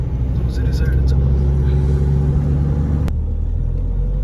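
A Mahindra XUV500 drives in fourth gear with a steady, loud engine and road rumble throughout, heard from inside the cabin, with a brief click near the end and a voice talking over it.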